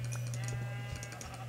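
Sheep bleat in the Minecraft video game, a few short nasal calls repeated over a low steady background hum.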